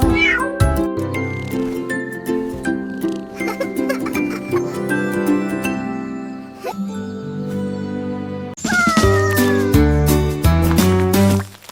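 A cat meows repeatedly through a children's alphabet song, the bright cries rising and falling over musical accompaniment, loud and close, with a brief quieter gap before the music surges back in.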